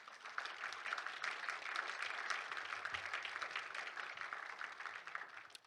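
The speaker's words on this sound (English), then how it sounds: "how about a round of applause for these candidates?" Enthusiastic audience applause for the candidates at a 2026 primary candidate forum for Congressional District 26: dense, steady clapping from a crowd, sustained at even loudness throughout.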